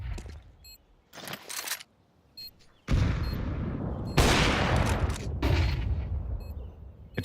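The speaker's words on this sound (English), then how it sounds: "Good shot there from NQZ" Gunfire in a Counter-Strike esports match from ESL Pro League Season 23: sharp bursts of shots, first in scattered short clusters, then a dense, loud continuous stretch of firing and impacts.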